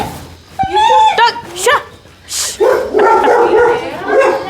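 A dog barks and yips in short, sharp bursts, fairly close, with a brief whimpering tone between barks and a second dog joining toward the end.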